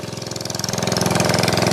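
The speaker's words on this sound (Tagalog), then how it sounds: "ngayon po ang ginawa nila, pinaandar yung motor doon para tanggalan ng tubig" A water pump motor beside a large fish pond chugs loudly and steadily, its rapid rhythmic knocking pulses close by and gradually growing stronger as it runs to drain the water.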